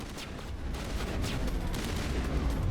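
Dense gunfire in Mass Effect 1 Legendary Edition on the Citadel, a continuous loud barrage of overlapping shots and explosive noise with no pauses.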